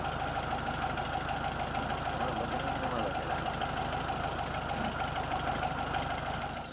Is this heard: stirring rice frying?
no